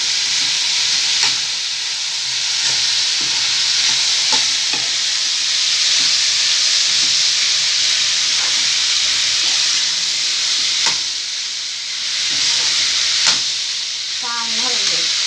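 Turmeric being stirred into bitter gourd pickle frying in a pan: a steady loud sizzle with repeated scraping strokes of a spoon throughout, no talking.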